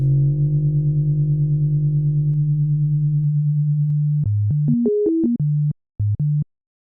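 A very low synthesized horror sound-design tone hums steadily and loudly for several seconds, then short pitched synth blips step up and down before cutting out, with no talking.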